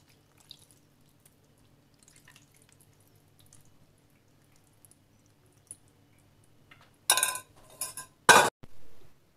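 Tomato sauce of oil, tomato, water and salt poured over stuffed cabbage rolls in a pot: a long quiet stretch, then two short, loud bursts of liquid splashing and clinking near the end.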